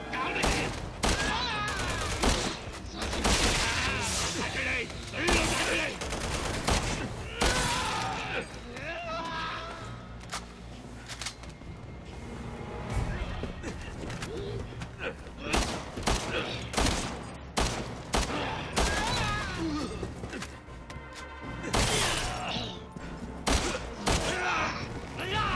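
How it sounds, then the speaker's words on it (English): Gunfire fills a Resident Evil 6 cutscene on Xbox 360: dense bursts and rattling volleys keep going at loud, close range, mixed with thuds and crashes while voices speak over the action. "Piers, I'm taking a little fire here"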